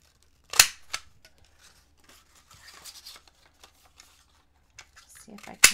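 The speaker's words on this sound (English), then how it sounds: "I'm going to punch some stars" A Creative Memories paper punch stamps stars out of patterned paper scraps, giving a few sharp crisp clunks spaced apart with quiet rustling and handling noise between them.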